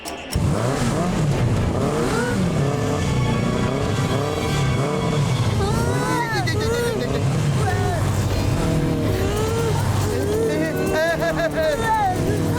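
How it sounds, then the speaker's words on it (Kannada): Loud motorcycle engines whine and rev continuously, pitches sweeping up and down repeatedly as bikes pass close by again and again. "ಈ ಬೈಕ್ಗಳು ಯಾಕೆ ನಮ್ಮನ್ನೇ ಸುತ್ತ ಹಾಕ್ತಾ ಇವೆ?"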